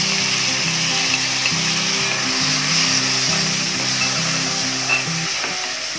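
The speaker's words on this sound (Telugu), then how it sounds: "ఇప్పుడు కళాయి పెట్టుకొని అందులో 3 స్పూన్ల నూనె వేసుకోవాలి. అది వేడెక్కినాక మనం టమాటాలు వేసేసుకుందాం." Tomatoes fry in about three spoons of hot oil in a kadai, giving a loud, steady, close sizzle that stays even throughout with no voices.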